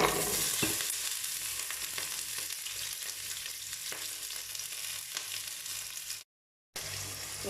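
Crushed onions with paprika and bell pepper fry in oil in a pan, giving a steady broadband sizzle with occasional stirring scrapes, close and continuous, broken by a brief moment of silence near the end.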